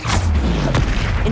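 A Confringo explosive spell cast in Hogwarts Legacy: a loud, dense blast with sharp bursts near the start and again just before the middle, rumbling continuously throughout.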